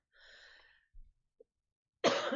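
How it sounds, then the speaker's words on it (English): A short, harsh cough erupts after a few faint breathy sounds and a soft thump, close and loud against an otherwise quiet background. "I got a coughing fit as of today."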